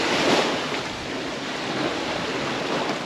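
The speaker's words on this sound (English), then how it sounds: "Winds are getting up to, they're gusting up to 19 right now" A steady, loud roar of wind gusting to 19 mixed with rushing water around a sailboat moving between Hawaiian islands off Molokai, with no one speaking.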